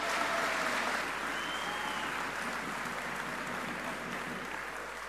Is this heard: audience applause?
yes